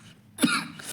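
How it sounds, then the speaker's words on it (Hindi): A single cough from someone speaking Hindi, close to the microphone, breaking off his talk for a moment before he carries on. "माफ़ कीजिएगा, थोड़ा खांसी हो गया।"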